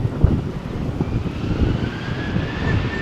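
A Ryanair airliner on the runway at Malaga Airport on a stormy morning, bound for Dublin, roars steadily with jet engine noise over gusty wind rumble, a faint rising whine threading through the sustained, loud drone.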